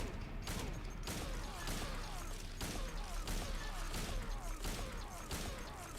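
Repeated gunfire in Silent Hill 2 aimed at an invisible enemy, a steady series of sharp shots at roughly half-second intervals over game ambience, loud and close.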